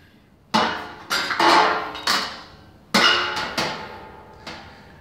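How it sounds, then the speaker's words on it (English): Metal back panel of an electric range being worked loose and pulled off, a series of sharp metallic clanks and rattles in uneven bursts, close and loud with no talk. "go ahead and just pull the panel off."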